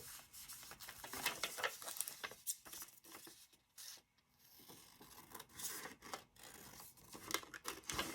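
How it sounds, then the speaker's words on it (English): Paper being cut for a handmade pocket journal made from a lunch bag, with a faint, close run of quick snipping, rasping and crinkling strokes, uneven in rhythm and with brief pauses. "I'm going to try to cut this."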